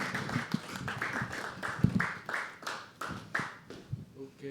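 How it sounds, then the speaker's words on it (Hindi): An audience at a live poetry open mic at The Habitat claps to welcome the next performer, with steady, fairly rhythmic applause from a modest crowd and a faint voice underneath. "ज़ोरदार तालियों से हम बुलाएंगे दोस्तों होमी को"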